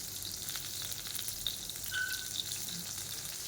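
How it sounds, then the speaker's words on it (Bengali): Pointed gourd and potato curry frying in a pan, a steady soft sizzle with faint crackles and an occasional light stir, no voices over it. "আজকে পটল আলুর তরকারি বানাচ্ছি"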